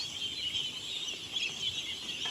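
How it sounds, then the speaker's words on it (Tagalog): A busy chorus of young ducks raised on a small farm, dense high peeping and chirping from many birds at once, steady and moderately close, with no talking over it. "1/8 po yung inalagaan po nila na bibi. Itik kung tawagin po yan guys."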